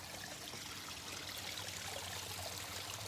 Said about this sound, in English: There is my waterfall.